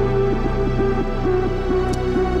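Sustained strings blend with a trance lead synth and soft pads in a remix, a dense, steady texture with a pulsing repeated melodic figure and no voices.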